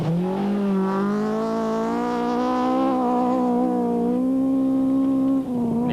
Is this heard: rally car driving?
yes